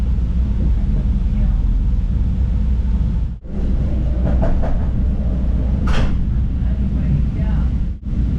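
A Chicago 'L' train rolls along the rails with a loud, continuous rumble, faint rhythmic clacks and a brief high squeal, heard from on board.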